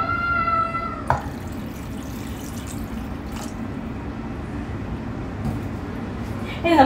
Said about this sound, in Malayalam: ആവശ്യമായ വെള്ളം ചേർക്കുക.